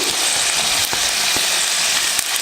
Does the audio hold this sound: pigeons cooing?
no